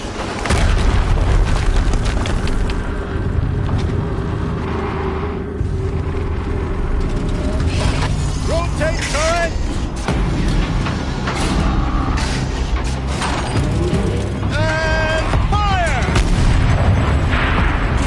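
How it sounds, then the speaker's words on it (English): Explosions in the video game Horizon Zero Dawn boom repeatedly over a continuous loud rumbling game soundscape, with heavy impacts spread across the scene and brief voice-like cries in between. "Another explosion."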